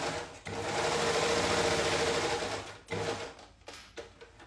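A sewing machine runs steadily over fabric pieces during a live sewing session, a close, even mechanical whir lasting a few seconds, then slowing into short stuttering bursts.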